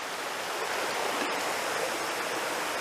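The Rose River in Shenandoah National Park rushes steadily nearby, a continuous broadband wash of flowing water with no voices.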